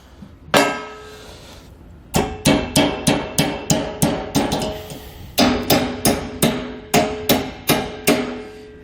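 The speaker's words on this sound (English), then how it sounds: "we can go ahead and hammer it on" One metallic hammer blow, a pause, then two long runs of steady, ringing hammer strikes driving a bushing onto the pivot arm of a B and W Patriot 5th wheel trailer hitch, close and loud.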